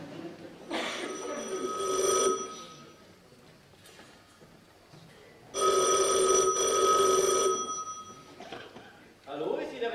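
A telephone rings with an old-style bell in two long bursts separated by a pause, loud and close, the start of a third burst at the end, with voices speaking in between in a stage comedy.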